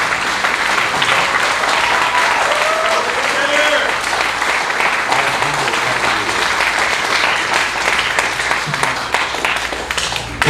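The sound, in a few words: audience applause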